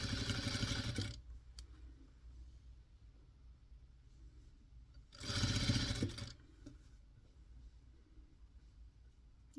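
A sewing machine stitches fabric for a snowman doll in two short, fast, whirring bursts, each about a second long, separated by a quiet pause.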